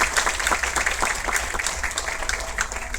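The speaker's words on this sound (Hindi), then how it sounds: "जोरदार तालियां हर्षित जी के लिए।" Audience applause at a business motivation seminar, a steady wash of many hands clapping at moderate level with no talk over it.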